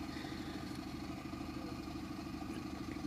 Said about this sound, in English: lorry or vehicle or engine or whatever you call them has turned up